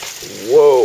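Water pours into an aquaponics tank with a steady, fizzing hiss like frying or light rain, and a voice briefly sounds over it near the end.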